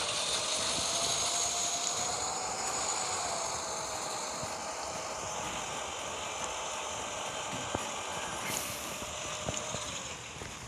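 A tractor engine labours as it strains up a slope, a steady broadband drone that holds for the whole stretch without letting up, fairly distant and moderately loud.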